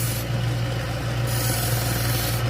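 A knife blade is stropped on a running sander, giving a constant loud abrasive rasp over a steady motor hum with no pauses.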